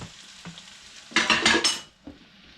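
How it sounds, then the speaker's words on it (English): Bacon and onions frying in bacon grease in a pan as they are stirred, with a short loud burst of sizzling and scraping near the middle between quieter clinks and taps, very close and with no talking. "get the onions, everything stirred up"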